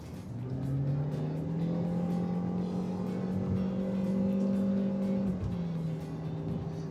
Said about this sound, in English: the engine note is very sporty as well